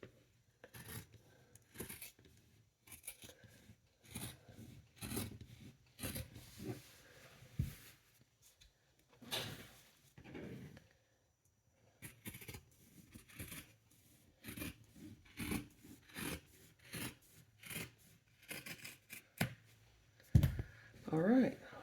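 Scissors cut fabric into a 16-inch circle for a round sewn basket, bursts of close snipping and rustling in irregular clusters, with a pause and a faint thump near the end.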